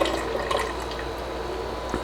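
Liquid pours steadily into a pot for potato soup with dumplings, a close, continuous splashing and trickling stream with a few small drips near the end, and nobody speaking.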